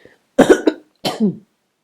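Two harsh coughs, one after the other with a short pause, close and loud against silence.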